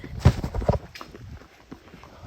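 Hooves of a ridden horse clip-clop in a few uneven, fairly close strikes, then the sound fades into softer outdoor noise.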